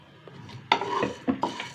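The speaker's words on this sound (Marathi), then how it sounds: "त्याच्यानंतर आता ही लवंग घेतली भाजण्यासाठी त्याच्यावरती असं थोडंसं तेल टाकून घेतलं" Cloves are dry-roasted with a little oil in a pan while making red chilli masala, heard as a few close clinks and scrapes of a spoon against the pan over a faint sizzle.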